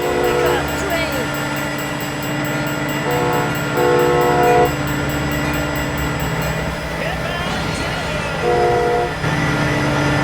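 Train horn in the BeamNG.drive driving game, sounding in several long sustained blasts over steady rumbling engine and rail noise, with a voice talking briefly over it.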